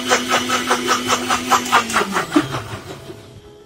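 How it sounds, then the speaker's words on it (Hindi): Kitchen mixer grinder whirring as it blends yogurt, mango, powdered sugar and ice cubes into mango lassi, a loud pulsing motor drone that slows and fades near the end. "अब हम इसे मिक्सर में चला देंगे।"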